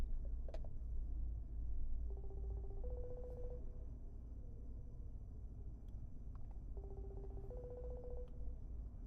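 A Redmi Watch 5 Lite smartwatch placing a Bluetooth phone call, two identical rounds of short electronic ringback tones heard a few seconds apart over a steady low background hum, with no speech.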